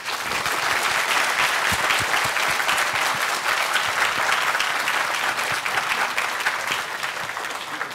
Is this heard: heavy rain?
no